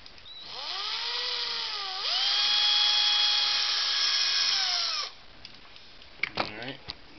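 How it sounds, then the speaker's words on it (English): A power drill bores out the center of a plastic Green Lantern toy ring, whining up and holding a steady high pitch for about five seconds before spinning down, followed by brief handling noises and a bit of speech. "finish drilling this center piece out to where it's almost flush"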